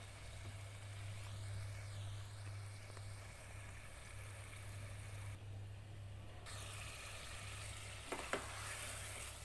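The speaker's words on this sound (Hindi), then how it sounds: "अब इसमें मैं छोले चने ऐड कर दूंगी। इसको ऐड करने के बाद इसको भी मिक्स कर दूंगी।" Chickpeas being mixed into a Lahori chicken curry in a pan, with a soft continuous sizzle of oil and quiet stirring scrapes, faint and steady, with a brief louder clatter near the end.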